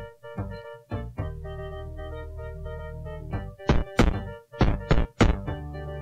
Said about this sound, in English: This is a very solid 8-bit thumping noise we've got there.